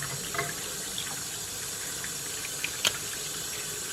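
A kitchen tap runs steadily, hot and cold water mixed to lukewarm for softening wool with conditioner, a continuous soft gushing stream with a couple of small splashes near the end.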